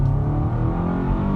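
Engine of a 2022 Kia Sorento with the 2.5L engine pulling hard at full throttle, a steady, close low drone with a rising rumble and no speech over it.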